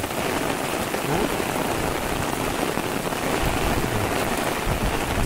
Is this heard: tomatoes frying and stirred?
no